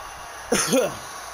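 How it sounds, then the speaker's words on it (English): A single short, harsh cough from a commentator who is coming down with something, close and brief, with a throaty rasp over a quiet background. "pardon me, I may be coughing a bit throughout the show, coming down with something"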